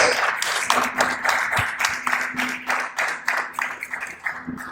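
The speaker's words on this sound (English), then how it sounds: "please let's give him a round of applause" A crowd gives a round of applause, steady dense clapping throughout at moderate volume, with a faint hum underneath and no talk.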